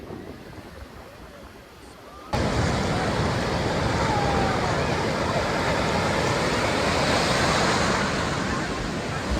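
Ocean surf rolling onto the sea beach at Puri, a steady broadband wash that rises sharply and stays loud and continuous, close by, with no clear breaks between waves.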